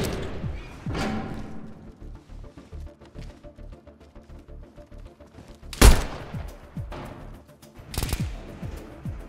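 Gunfire during a raid defense in DayZ at a solo bunker base: scattered shots and short bursts, mostly distant with echoing tails, plus a couple of loud close cracks, a soft voice murmuring underneath.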